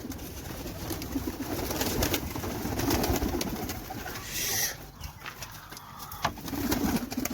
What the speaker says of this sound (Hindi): ये देखिए ये हमारे कबूतर हैं